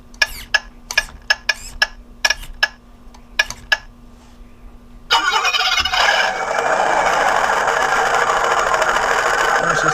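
A WPL C14KM radio-controlled car powers up: a short series of electronic beeps and blips, then the motor kicks in with an abrupt buzzing whine that settles into a steady, loud, close hum until the end.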